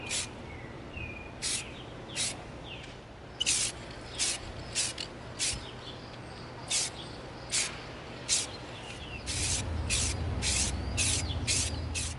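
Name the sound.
spray painting foam prop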